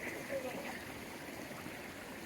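Stream water flows down a hillside channel toward village rice fields, a soft, steady rushing wash with faint voices under it.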